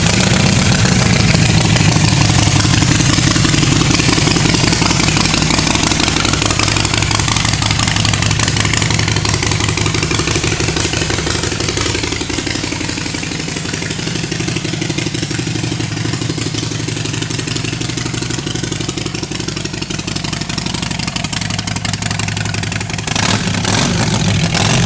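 A 2011 Harley-Davidson 883 Iron motorcycle engine already running, a loud close continuous rumble at steady idle with slight swells in revs throughout, and a few clicks near the end.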